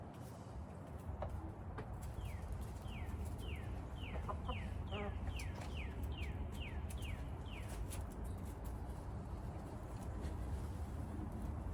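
A black-laced Wyandotte hen gives a run of quick, repeated clucks, faint and slightly distant, over a steady background hiss with no talking.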